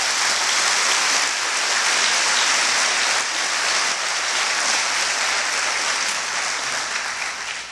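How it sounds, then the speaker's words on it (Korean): Large audience applause at a university president's inauguration ceremony at POSTECH, dense sustained clapping that holds steady for several seconds and tapers slightly at the end. "참석하신 내외 기분을 다시 한번 큰 박수로 환영해 주시기 바랍니다."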